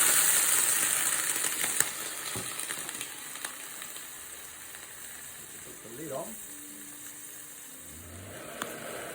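Steady sizzle of a clam pasta pan with asari clams as sake is poured in, a broad hiss throughout with a few soft clinks and faint speech-like sounds near the end.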